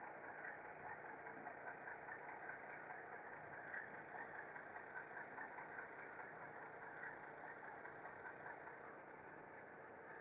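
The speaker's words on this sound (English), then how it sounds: "we're using a RS-11 locomotive, which has a wonderful sound to it." An HO scale model RS-11 locomotive's sound unit hums in a steady, even diesel idle that drones on without a break.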